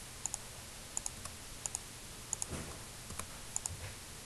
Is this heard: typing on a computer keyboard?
yes